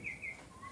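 Small birds chirp with a few thin, high tweets, faint and distant over a quiet background.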